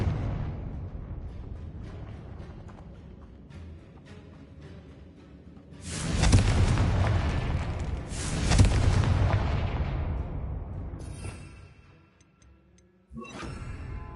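Confringo explosive spell cast in Hogwarts Legacy, giving loud, booming blasts in quick succession with a roaring, crackling tail that fades out before a sharper burst near the end.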